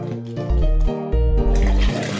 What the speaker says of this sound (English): Also note how fast the water is flowing compared to before.